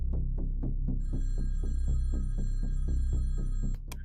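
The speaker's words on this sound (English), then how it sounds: "the phone rang at the Marion County Sheriff's Office in Florida" A telephone rings at a county sheriff's office in Marion County, Florida, its bell tone pulsing in a steady repeating pattern over a deep throbbing hum, loud and continuous before it cuts off near the end.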